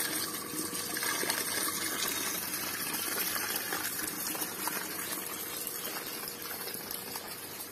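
Water from an automatic tap gushes in a steady, loud, continuous splashing rush with no break.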